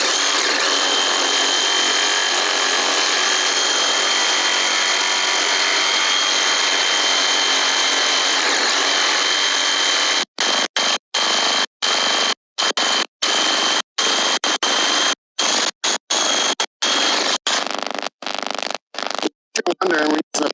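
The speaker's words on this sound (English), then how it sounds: "we're using a power saws with metal cutting blade" Power saw fitted with a metal-cutting blade cutting through pipe while replumbing a toilet, a loud, steady, close grinding whine for about ten seconds, then rapid stop-start bursts as the trigger is pulsed.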